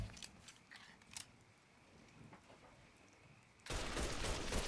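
Gunfire in the Mafia 3 video game: a few faint sharp cracks early on, then a loud, sustained burst of shots that rises suddenly and dominates the end.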